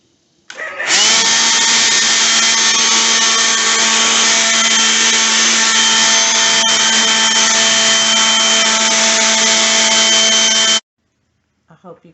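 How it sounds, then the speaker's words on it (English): Lawn blower clearing cobwebs from a garage: a loud, steady motorized whine starting abruptly and holding constant for about ten seconds before cutting off, with brief talk just after. "Cobwebs build up in the garage. Use your lawn blower."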